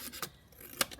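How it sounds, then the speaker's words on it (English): Scissors snip through buff-coloured card in a few short, close, quiet cuts, with no talking. "I'm just going to cut that down slightly."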